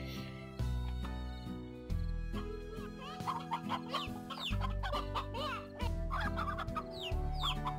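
Chickens clucking in the video game Slime Rancher, a busy series of close, repeated clucks and squawks over a continuous game music bed.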